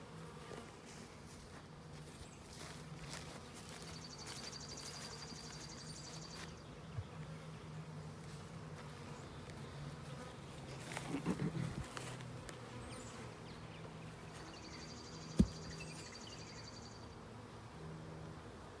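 A honey bee swarm buzzes outdoors, a continuous low hum of many bees with individual bees droning closer past at times, fairly faint overall, with a brief clatter and a sharp knock partway through.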